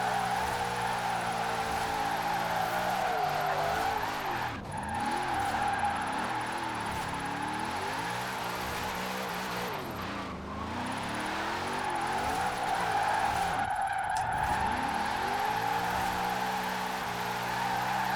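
In Forza Horizon 4, a wheelspin drift-build car drifts with its engine revving hard near the limiter, a continuous loud, close whine whose pitch swoops up and down as the throttle is worked, with faint tire noise underneath.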